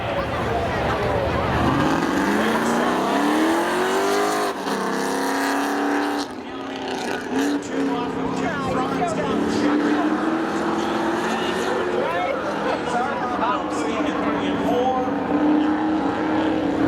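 Drag racing cars, including a 1994 Pontiac Trans Am, at Seekonk Speedway spectator drags, engines revving loudly and rising in pitch as they launch and pull away, with an announcer talking over the roar.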